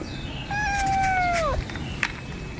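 A single drawn-out meow, rising then sliding down, with a faint click after it and a quiet background.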